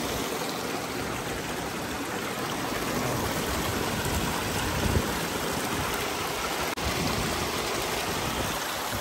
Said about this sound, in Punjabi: ਥੋੜ੍ਹੀ ਜਿਹੀ ਦੂਰ ਜਾ ਕੇ ਨਿੱਕੀ ਜਿਹੀ ਝਰਨੀ ਹੁੰਦੀ ਇਹ ਮੈਨੂੰ ਲੱਗਦਾ ਸਨੋ ਪਿਘਲ ਪਿਘਲ ਕੇ ਇੱਥੇ ਆਈ ਜਾਂਦੀ ਹੈ